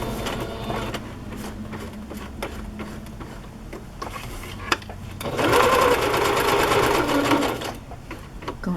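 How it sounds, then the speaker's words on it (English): Sewing machine running a long stitch, with steady mechanical clatter in short bursts and pauses, then a louder, faster run near the end. "I want to make this a long stitch."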